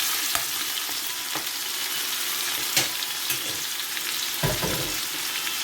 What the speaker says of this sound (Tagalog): So, ayan, mainit ng ating mantika. Unahin ko muna yung pork na na-marinate ko sa oyster sauce at black pepper.